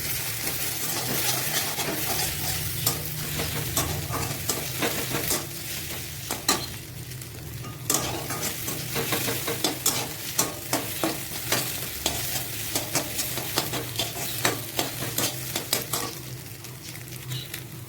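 Bitter gourd and egg fry in a pan with a continuous sizzle under repeated scraping and stirring, and the clicks of a spatula against the metal get sharper and more frequent as the mixing goes on.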